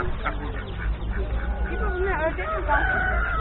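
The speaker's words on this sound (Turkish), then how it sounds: "Ördek ördek." Ducks quacking at a busy poultry market in Isparta, repeated nasal calls over a crowd's hubbub and nearby talk.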